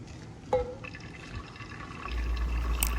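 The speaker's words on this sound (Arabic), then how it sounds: "نرشوا بيها الكمية كامل نتاع الماء، نرش بيها هذيك الثريدة" Water is poured and sprinkled over steamed chakhchoukha couscous dough, a soft, low splashing and trickling heard close by and fairly faint, rising slightly toward the end.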